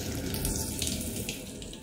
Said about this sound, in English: I've never had a shower where it comes from the roof.